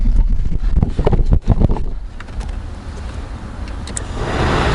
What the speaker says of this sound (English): this is a quick demonstration of the blower motor in action